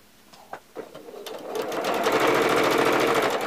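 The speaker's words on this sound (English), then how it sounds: "I'm just going to stitch right along a 1/4 inch seam." A sewing machine stitches a quarter-inch seam on a face mask, starting with a few soft handling clicks, then running in a fast, steady, close-up whir of needle strokes.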